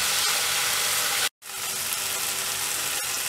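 Drumsticks fry in a pan, a dense continuous sizzle heard up close, briefly cutting out to silence near the middle before resuming, with a faint knock or two and no talking.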